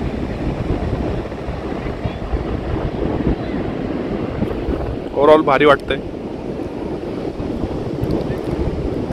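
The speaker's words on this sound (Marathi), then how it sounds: "आजच खूप जास्त वारा आहे बीचवरती" Steady strong wind on a beach buffets the microphone throughout, a broad rushing roar with a faint wash of surf beneath, and a person speaks briefly midway.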